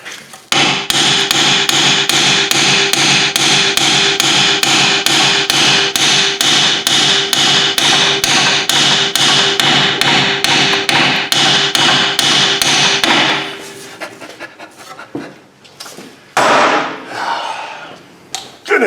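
Hand hammer striking a Jeep Commander front CV axle in rapid, evenly spaced metallic blows for about thirteen seconds, loud and close, then a few scattered knocks and handling noises.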